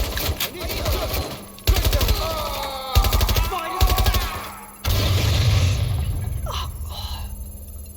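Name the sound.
gunfire in the video game Watch Dogs Legion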